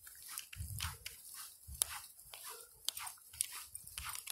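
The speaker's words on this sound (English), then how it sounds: "Cause these people coming with this big old dog" A big dog passes outdoors on a walk, heard as scattered snuffling, panting and short vocal bursts at moderate distance, with faint rustling and a couple of sharp clicks between.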